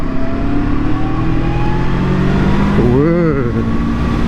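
A QJ SRV600 V4 four-cylinder custom motorcycle pulls hard under acceleration, its engine note rising steadily and loud close up with wind rush, easing into a brief pitch wobble near the end; no one speaks over it.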